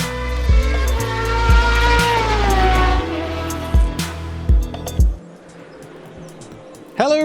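GT3 race cars at Monza in the RaceRoom racing game, a loud engine note rising and shifting through gears before cutting off, with a few sharp thumps and a quieter stretch at the end.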